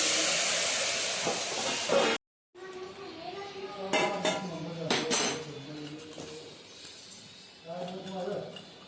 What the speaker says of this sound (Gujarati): હવે આપણે આ દાળ ઢોકળીનો વઘાર કરીશું.